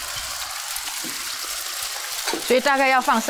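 Duck egg poured into hot oil in a wok, frying with a steady crackling sizzle and bubbling throughout, while a voice talks over it near the end.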